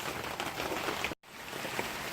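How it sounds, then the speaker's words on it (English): Rain falls outdoors beside a 2009 Mitsubishi Lancer being prepared for a turbo install, a soft, even patter with a brief dropout midway. "Also, as you can see, it's raining out here. Probably can't see it. I know you can hear it."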